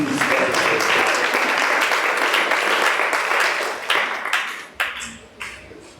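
A church congregation breaks into sustained applause and cheering at a Zacharie fasting teaching night, dense and loud at first, then thinning into scattered claps toward the end.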